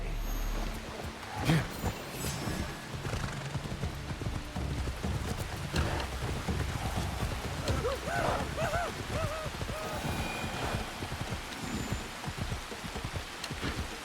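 Horse hooves clip-clop steadily in Assassin's Creed Shadows, muffled beneath constant heavy rain pattering and distant rumbling, with no one speaking over it.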